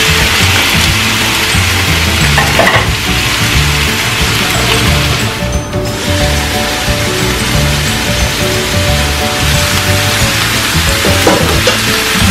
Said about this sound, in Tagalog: So, haluin muna natin yan. Yan, para magisa.